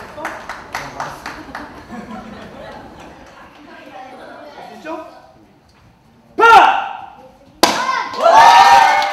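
Parents and participants clap in encouragement at a Korean martial arts board-breaking test, first as scattered rhythmic clapping under speech, then two loud bursts of applause near the end.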